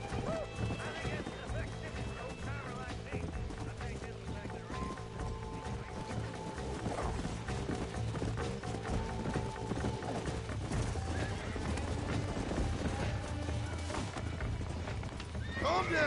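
In the video game Red Dead Redemption, a horse whinnies and its hooves clop steadily under a dense mix of game sounds, music and talking voices.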